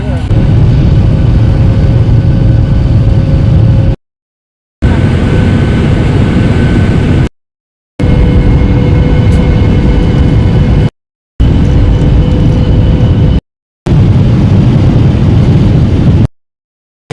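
Loud, steady airliner engine roar during landing at Mumbai, heard from inside the cabin in several continuous stretches separated by short cuts.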